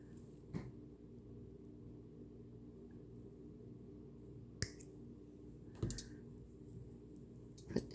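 Jewelry wire links on a bracelet are trimmed with cutters, producing a few sharp, close clicks spaced seconds apart over a quiet room hum.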